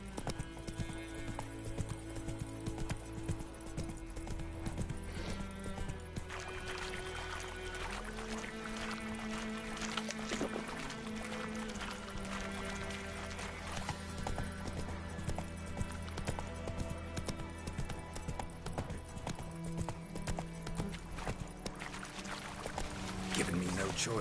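Roach the horse gallops in The Witcher video game, a rapid clip-clop of hooves running beneath a continuous dense music score, with in-game voices speaking over it.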